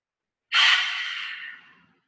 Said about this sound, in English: And then exhale through the mouth.